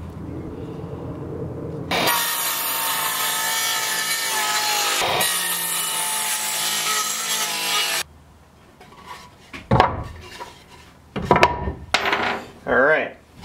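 Power saw cutting through a 1x6 wood board, a loud steady whirring cut lasting several seconds with a brief dip midway, then stops, followed by scattered knocks and handling noises of the boards.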